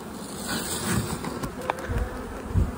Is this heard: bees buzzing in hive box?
yes